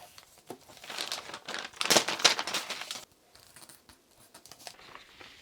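A paper sewing pattern for a tote bag is folded and handled. Crisp crinkles and rustles come in close bursts for about three seconds, then only faint scattered paper sounds remain.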